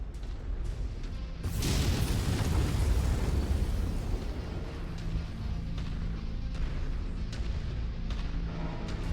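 A mech in Mechwarrior 5 fires all its weapons at once at a turret, a loud roaring volley of booming blasts that then thins into scattered crackling and lighter shots.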